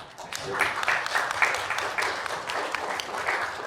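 Audience at a voice-actor conference during a gaming show applauding steadily, a dense wash of many hands clapping at moderate volume throughout.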